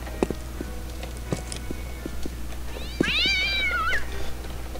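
Inside the Postal 2 video game, a cat lets out a single drawn-out, wavering meow after a series of light scattered footsteps and clicks, over a constant low background hum.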